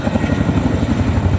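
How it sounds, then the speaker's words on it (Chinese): A Chinook helicopter carrying a giant national flag thunders overhead, its rotors beating in a loud, steady, rapid thump over a low roar. "新努克直升机吊挂巨幅国旗进场"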